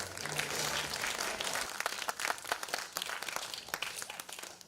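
An audience at the opening of a children's theatre festival claps in a dense, crackling patter that holds steady, then thins toward the end, heard from some distance at low level.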